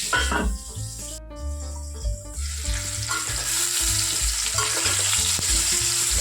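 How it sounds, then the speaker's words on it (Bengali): Papaya and potato pieces fry in oil with a continuous crackling sizzle and occasional stirring clatter, while faint background music plays and no one speaks. "পেঁপে আর আলুগুলোকে আলাদা যদি ভেজে নেওয়া যায় টেস্টটা খুব ভালো আসে।"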